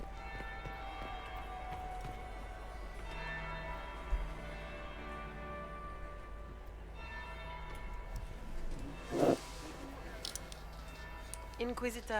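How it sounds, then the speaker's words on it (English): A bell rings out in the Dragon Age Inquisition video game, its sustained, resonant tones ringing across the scene over a low ambient bed, followed by a brief sharp clatter. "That's the second bell."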